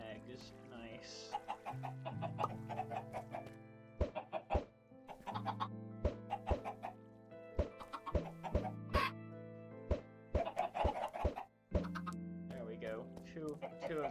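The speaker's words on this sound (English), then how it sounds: "check the chicken farm, shall we?" Chickens cluck repeatedly on a chicken farm in the Minecraft video game, a busy overlapping stream of short clucks and squawks at close range, with a voice talking under them.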